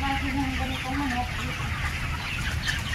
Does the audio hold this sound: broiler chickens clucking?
yes